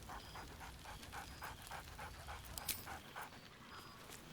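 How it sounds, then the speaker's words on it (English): Scratch, the dog in Baldur's Gate 3, pants and lets out soft yappy sounds in a steady, quick rhythm over constant game ambience, fairly close and moderate in level. "Scratch barks merrily in something like agreement."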